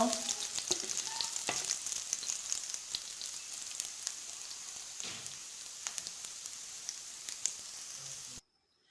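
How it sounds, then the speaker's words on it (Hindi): Curd tadka sizzles and crackles steadily in a pan, a dense close frying hiss with scattered pops and stirring scrapes, with no voices, ending abruptly. "1 मिनट के लिए भून लेंगे इसको।"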